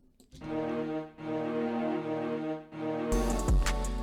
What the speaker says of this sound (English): Expand plugin called Legato Tremolo. And this kind of adds like the bass line to the string part